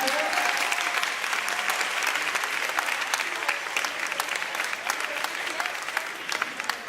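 A room full of guests at a high school alumni scholarship award dinner breaks into loud, sustained applause, thick overlapping claps holding steady for several seconds.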